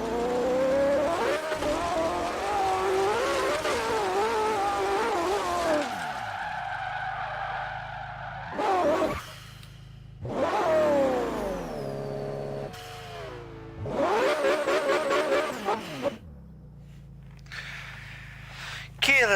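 Cars in the racing game Forza Horizon 3, engines revving and rising through gears with squealing, skidding tyres, bursts of acceleration separated by quieter gaps; players chatting over the action.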